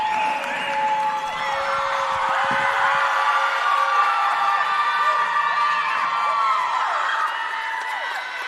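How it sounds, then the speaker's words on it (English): A big crowd at a college cheerleading competition cheers and whoops steadily, a dense wash of shouting voices and applause that stays loud and continuous throughout. "They are over here keeping the energy high. They got a big crowd."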